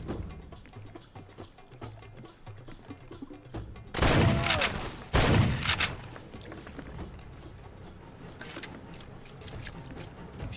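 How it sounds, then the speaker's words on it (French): Machine gun fire in Far Cry 2, two loud bursts of rapid shots standing out against a steady backdrop of distant gunfire and ambient battle noise. "Putain, avec sa mitrailleuse, il transperçait les murs"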